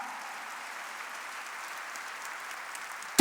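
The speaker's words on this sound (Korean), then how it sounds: "깨닫는 사람만 박수 치라니까" Church congregation clapping during a worship service, a dense, even wash of many hands applauding steadily throughout at moderate volume with no speech over it.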